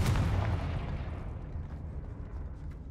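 A Confringo spell blast in the video game Hogwarts Legacy, a loud rumbling explosion that hits at once and then decays slowly into a long, heavy roar.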